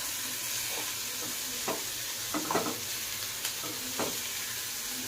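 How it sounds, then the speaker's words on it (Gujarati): Sliced onion stirred and frying in a pan over a lowered flame, a steady soft sizzle with several light spoon scrapes and taps scattered through, close and alone with no talking. "હવે આપણે એને હલાવીશું ગેસ ધીમો કરી દેવાનો"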